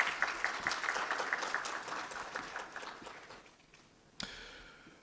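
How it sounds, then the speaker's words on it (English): An audience at a health launch event in West Africa claps in a dense burst of applause that gradually thins and fades, ending with one sharp louder clap. "shall we do a big round of applause for him?"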